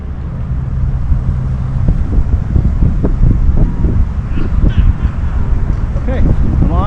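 Steady low wind rumbling and buffeting against the microphone on a golf course, continuous and fairly loud throughout, with faint background sounds over it.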